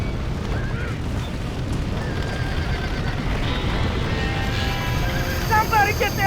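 Horses whinnying and neighing in a Red Dead Redemption scene of a burning barn, several calls near the end over a constant rumbling roar of fire and commotion.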